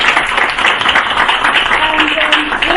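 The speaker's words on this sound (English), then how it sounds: "if you give them a round of applause" A panel discussion audience gives the three panellists a round of applause: dense, loud, continuous clapping that fills the whole stretch from start to finish.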